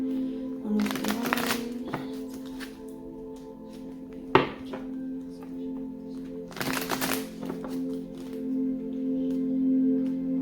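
Tarot cards riffle and shuffle in short bursts against a steady low hum, with soft taps and clicks scattered between them.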